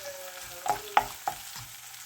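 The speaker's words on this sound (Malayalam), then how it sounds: "ഇനി നമുക്കിത് ഇളക്കി കൊടുക്കാം." A spoon stirs long beans in a pan as they fry for a Kerala-style stir-fry. Three quick scraping clinks land against a faint, steady sizzle, and no one speaks.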